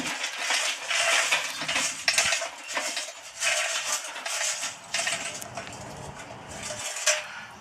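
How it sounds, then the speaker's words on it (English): Hot lump charcoal and Kingsford briquettes tumble into a metal pan in a Char-Griller Akorn kamado, making a rapid series of loud, close clattering and scraping bursts with short pauses between them. "Okay, our charcoal's good and hot, so we're going to dump that into our pan here"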